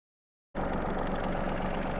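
A stump grinder's engine starts up after half a second of silence and runs steadily at idle, a loud, close mid-pitched drone with a faint knocking texture, called in for an emergency grind of a tree stump.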